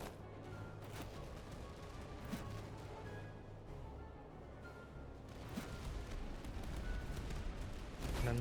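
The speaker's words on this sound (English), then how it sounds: "They're firing on the cavalry." In the Napoleonic-era strategy game Master of Command, musket volleys and cannon fire pour onto cavalry as a distant, quiet battle din of crackling shots and dull booms that swells toward the end.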